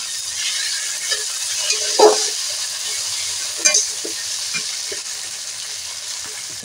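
Cumin paste sizzles in hot oil over a fried onion, tomato and garlic masala, giving a steady close hiss with a few brief clinks and stirring knocks.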